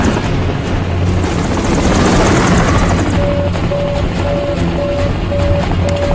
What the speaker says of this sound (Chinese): 气流过大，飞机状态保持困难